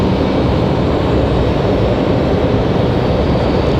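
Small flight-school aircraft on final approach at Raleigh-Durham International Airport, a loud, steady, broadband roar that holds constant throughout with no talk.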